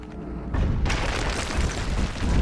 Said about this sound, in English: So that's broken away another piece of the floor